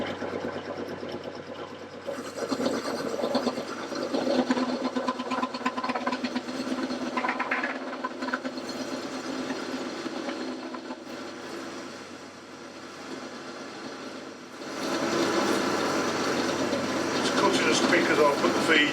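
Metal lathe running at 540 RPM with a parting-off tool cutting into fresh stock held in the chuck, a steady loud mechanical whine and grinding that swells near the end, with a person talking over it at times.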